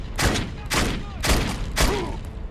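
Four heavy bursts of gunfire from a gun in the video game Defiance land at a steady pace, each a loud, dense crack with a short tail.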